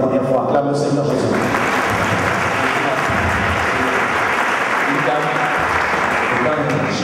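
A church congregation bursts into loud sustained applause acclaiming Jesus, dense clapping swelling after the first second and continuing throughout, with a voice speaking over it at the start.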